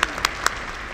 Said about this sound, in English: Bit of applause.